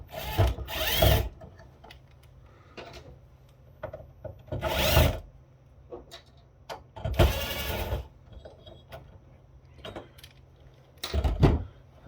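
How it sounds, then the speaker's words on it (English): Several bursts of a small power screwdriver or drill backing screws out of a metal AV presentation switcher chassis, separated by quieter handling noises and clicks, close and moderately loud with no talk. "Alright, 2 more screws."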